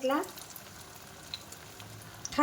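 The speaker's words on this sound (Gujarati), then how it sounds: "તો આવી રીતે બધી બેચ તળી લેશું." Batter-coated pav bhaji pakoras deep-fry in oil over a medium flame with a soft, steady sizzle. Short bits of voice come in at the start and end.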